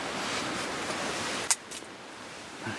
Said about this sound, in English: Kind of windy. We got probably 20-mile-an-hour gusts.